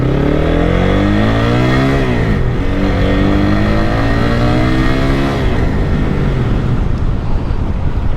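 A Lifan KPR 200 motorcycle engine revs hard on the throttle, rising in pitch, dropping briefly, then climbing again, loud and close with wind noise.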